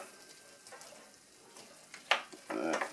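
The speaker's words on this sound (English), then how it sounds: "So there goes the onion. Let it sweat down in there." Chopped onion sweats in a pot, a faint soft sizzle that swells into brief louder bursts of crackle and stirring near the end.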